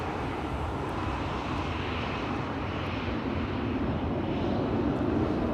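An Airbus A321 airliner passes at Schiphol Airport, its engines producing a steady, loud broadband roar that holds throughout and swells slightly toward the end, with no voices.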